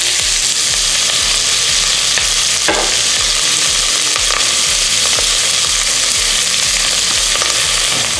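Utan bisaya with thyme being stirred and fried, a loud continuous close sizzle with repeated scraping strokes of a utensil through the pan, no voices.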